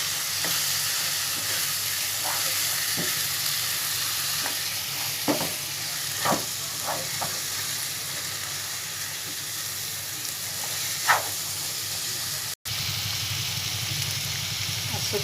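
Spices such as garam masala and curry powder sizzle and fry in a pan for chicken biryani, stirred with a few soft scrapes over a steady hiss that holds through to the end.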